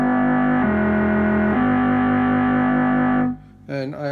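A complex oscillator synth patch with its pitch and timbre modulated through a Synthi card mixer gives a loud, buzzy, harmonically rich sustained tone that steps down in pitch and back up, then cuts off into a brief warbling, gliding tail.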